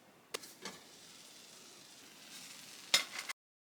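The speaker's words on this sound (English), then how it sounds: "I heated it up in the fry pan because it's already cooked." Precooked frozen Italian pizza sizzling in a hot frying pan, a soft steady frying hiss with a few sharper pops and bursts of crackle near the start and again toward the end before it cuts off abruptly.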